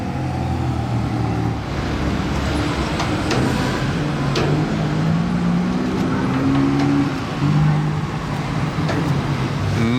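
Ferrari sports cars roll past on the streets of Monaco during the Historic Grand Prix, a continuous loud roar of engines with rising and falling revs as several cars go by close at hand.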